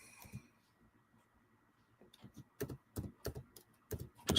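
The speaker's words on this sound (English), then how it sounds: "just typing." Computer keyboard typing in short clustered bursts of keystrokes, fairly close and moderately loud, with quieter stretches between the flurries.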